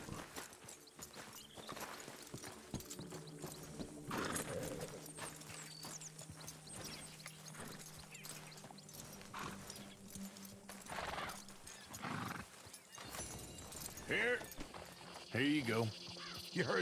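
Horse hooves clip-clop steadily with an occasional whinny in Red Dead Redemption 2, mixed with other game sounds and a person talking over them.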